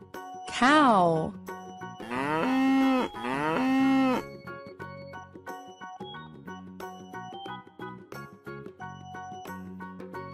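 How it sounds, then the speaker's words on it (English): A cow moos loudly in long, drawn-out calls, one then two more in quick succession, followed by softer jingling tones and brief sounds. "Cow."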